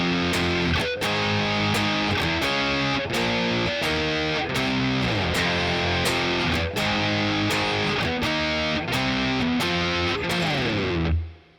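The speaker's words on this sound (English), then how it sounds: "So that first line of tab, which is exactly the same as the second line of tab, sounds like this" Distorted electric guitar plays the driving riff from a song: heavy palm-muted chugs and chord changes in a steady rhythm, loud and close, no voice, ending with a sliding stop.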